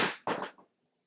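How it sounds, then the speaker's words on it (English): Two quick clattering knocks of objects, knocked off a coffee table by a cat, falling onto a hard surface nearby, followed by a faint settling rattle, then silence. "that sound was Bucky knocking things off my coffee table"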